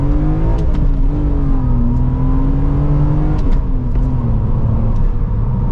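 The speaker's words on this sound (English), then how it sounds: "Let's see how it feels from a first gear run." A 1999 BMW M Coupe accelerating hard in first gear, its engine droning loud and close from inside the car, the pitch rising then dipping slightly as it pulls steadily.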